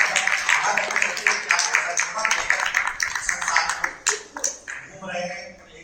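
An audience welcomes Swamiji with applause at an interview gathering, a dense stretch of clapping that thins into scattered claps, with voices murmuring beneath.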